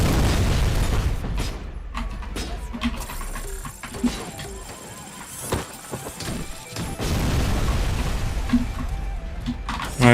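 Grenade blasts in the action game RoboCop: Rogue City, heavy booming explosions and crashes punctuated by thuds, with a quieter stretch mid-clip before the loud rumble returns, alongside game sounds and some speech.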